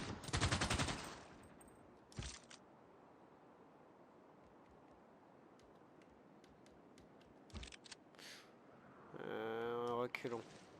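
Gunfire in a WWI strategy video game: a loud burst of rapid shots opens, followed by sparse distant single shots and cracks over quiet battlefield ambience, then a dense rattling burst near the end.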